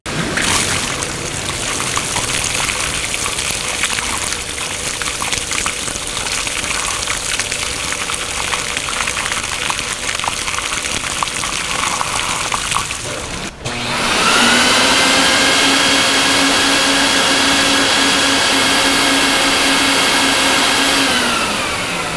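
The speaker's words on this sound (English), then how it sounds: "I flood the rug gentle and the vacuum from under the rug pull everything through the rug." An oriental rug flooded with water while a vacuum pulls it through from underneath, giving a loud, steady rushing roar that suddenly shifts to a harsher, higher whine partway through and continues unbroken.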